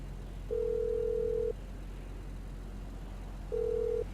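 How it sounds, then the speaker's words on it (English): A phone in GTA V gives a ringback tone while a call is placed: one steady one-second tone, a two-second pause, then a shorter tone, heard alone over a low background hum. "Oh, I guess I should dial a phone, yeah?"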